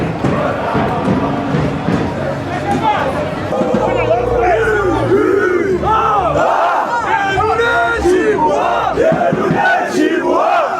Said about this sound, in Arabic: شوفوا هنا الاجواء نتاع الجماهير التونسيه والمكسيكان يصوروا